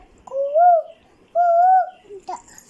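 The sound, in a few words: child imitating a cuckoo call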